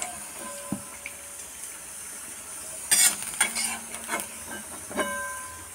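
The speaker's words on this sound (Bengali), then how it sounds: "বেগুনটা ভাজা হয়ে গেছে, তুলে নেব। হালকা ভেজেছি" Eggplant frying lightly in hot oil, a soft steady sizzle broken by a cluster of sharp scraping clatters as the pieces are stirred and lifted out of the pan, with no talking.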